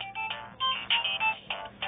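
A mobile phone rings with a thin electronic ringtone, short tonal bursts repeating in an uneven pattern, fairly close with no talking over it.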